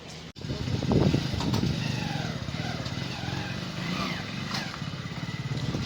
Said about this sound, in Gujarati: આ છે અમારી બાઇક હવે લઈને ઘર તરફ થઈશું